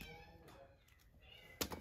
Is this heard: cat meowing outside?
yes